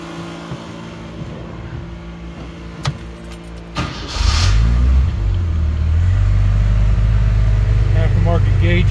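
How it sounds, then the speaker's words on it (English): A 1985 Jeep CJ7 engine starts up after a few seconds of quieter clicks and a running fan, then settles into a steady, loud, close rumbling idle that continues to the end. "Motor sounds great."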